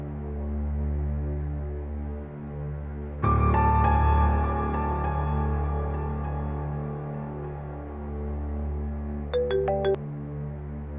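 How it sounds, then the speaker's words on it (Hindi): A phone rings out as a call is placed in a Pakistani TV drama scene: a steady electronic ringing tone over a low background hum, with a few short higher beeps near the end and no talking. "उमैर को फोन करके पता करती हूँ।"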